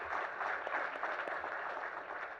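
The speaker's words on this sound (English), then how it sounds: "Can we have a round of applause, please?" Crowd applause greets India's Finance Minister Nirmala Sitharaman at a Budget 2024 round table event: steady, dense clapping from a large audience that holds even throughout, with no pauses.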